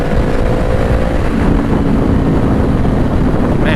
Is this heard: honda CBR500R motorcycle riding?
yes